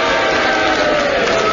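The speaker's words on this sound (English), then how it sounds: "will you cheer? And if you disagree, will you boo?" A studio audience roars together in a loud, sustained mass of cheering and booing that fills the whole moment without a break.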